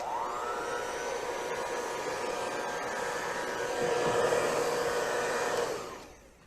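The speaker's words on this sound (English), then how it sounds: "A blow dryer is very useful to have when you're applying hairspray." A handheld blow dryer runs steadily, drying hairspray on teased-up fluffy hair for a cosplay hair understructure; the whirring airflow holds at a constant level, swells slightly near the end, then cuts off.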